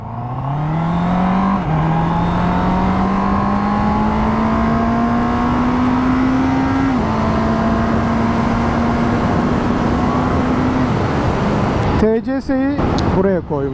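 A new Honda CB650R E-Clutch naked motorcycle's engine revs close by, climbing in steady pitched steps and holding loud, then dropping to a rougher note near the end as someone talks in Turkish.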